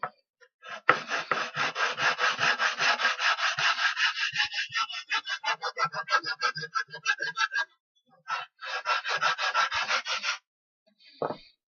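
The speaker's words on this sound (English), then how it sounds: "we can flatten it as well. This we can do on a piece of sandpaper." A model house part is rubbed back and forth on sandpaper to flatten it, making steady rhythmic scratchy strokes, close and fairly loud, with a short pause partway through and a few final strokes at the end.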